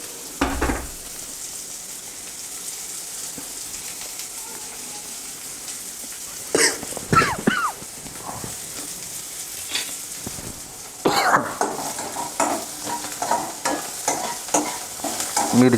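Green chillies roasting in a pan for a crisp roasted-poha chivda, with a steady hiss of frying and loud bursts of spatula scraping and stirring that come in clusters, alone with no talk.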